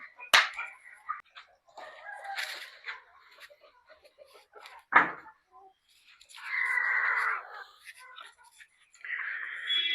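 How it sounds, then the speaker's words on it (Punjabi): Hens clucking and squawking nearby in scattered bursts, with a sharp close cackle and some rustling between calls. "ਮੁਰਗੀਆਂ ਬਾਹਰ ਨਿਕਲ ਆਈਆਂ ਸਾਰੀਆਂ"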